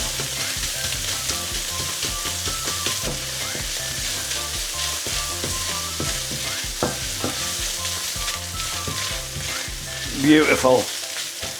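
Cumberland sausage fried rice is stir-fried in a wok: a loud continuous sizzle with repeated scraping and tossing clatter, and a voice speaks one brief word near the end.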